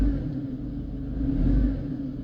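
A 2004 Mercedes C230 W203 with the 1.8 engine revving steadily, a loud, close, continuous low rumble that swells slightly mid-way and eases off again.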